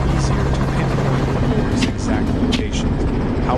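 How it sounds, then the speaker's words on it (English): A helicopter roars steadily overhead above sparse forest during a wild boar chase, a continuous low droning rumble that stays loud throughout, with a voice talking over it. "reacting instantly to the roar of the helicopter above"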